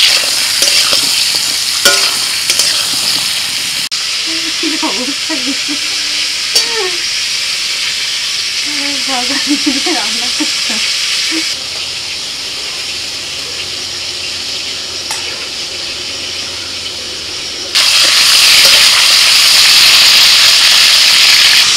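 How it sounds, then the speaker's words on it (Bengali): Pointed gourd fries in a pan with salt and turmeric, a steady sizzle and hiss broken by scraping and stirring sounds; a brief voice is heard near the middle. "ভাজতে ভাজতে পটলটা কিন্তু একদম নরম হয়ে গেছে।"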